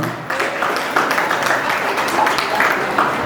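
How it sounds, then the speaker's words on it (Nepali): Audience applause greets a guest invited onto the stage at a debate competition, a dense steady clapping that fills the whole stretch at close range with brief swells. "जोरदार ताली नेपालका लागि।"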